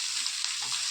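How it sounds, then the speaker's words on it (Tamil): Beetroot sautéing in a hot pan with cumin and fennel seeds gives a steady, close, even sizzle of frying that runs unbroken for about a second, with no talking. "நல்லா வதக்கிடுங்க."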